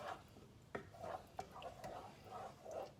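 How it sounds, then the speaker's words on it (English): A spoon stirring chicken sausage spaghetti sauce in a pot on the stove: soft scraping swirls with a couple of sharp metallic clinks against the pot, close and quiet. "Then we're gonna give that a stir."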